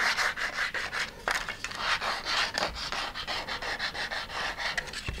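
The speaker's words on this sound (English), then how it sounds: "I got some medium grit sandpaper, and just kind of sand off the edge a little bit" Medium grit sandpaper rubs back and forth along a board edge to even it out, giving a steady run of close, rhythmic rasping strokes with no talk.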